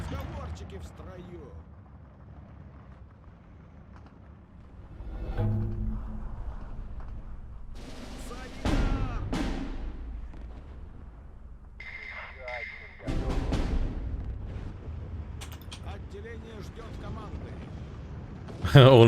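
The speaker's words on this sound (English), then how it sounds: "Got our batteries of Zis-3s ready to go. Start arting away." ZiS-3 artillery batteries firing in the World War II strategy game Steel Division 2, several separate booming shots spread across the stretch, with quieter rumbling between them and brief higher sounds around the blasts.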